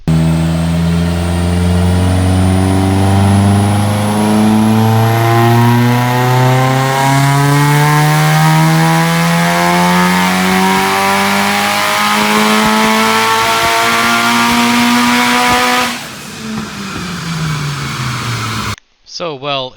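A Mitsubishi Evo on 20 psi of boost and pump fuel revs hard through a dyno pull, a loud, steady climbing engine note with rising harmonics that cuts off sharply, leaving brief rattling and a short burst at the end.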